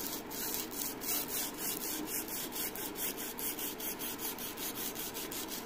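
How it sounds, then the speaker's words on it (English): A Damascus steel knife blade is hand sanded on a flat block, with rhythmic rasping strokes back and forth, about two per second, close and steady with no talk. "you'll hand sand it this way"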